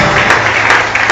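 A church congregation claps together at an anniversary Sunday service, a dense, loud burst of applause filling the room for about a second.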